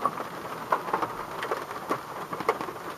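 Steady rain patters down in a continuous hiss with scattered louder drops striking nearby surfaces, near and moderately loud, with no voices.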